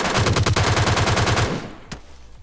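Rapid automatic gunfire in the PUBG Lite video game rattles off in a fast, loud burst for about a second and a half, then stops, followed by a single sharp crack.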